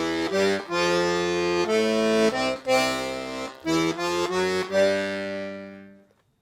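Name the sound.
piano accordion playing zydeco root, third, fifth pattern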